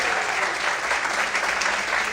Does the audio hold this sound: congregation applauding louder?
yes